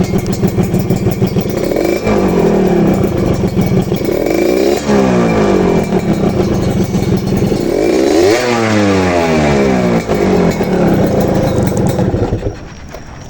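A 2002 Suzuki Satria 120 R motorcycle engine runs close by, revving up and down in rising and falling sweeps, a buzzy two-stroke tone that drops off near the end.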